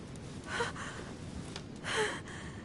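A woman's breathing in The Council: two soft, airy breaths, a gasp-like inhale then another about a second and a half later, quiet and close with no talk.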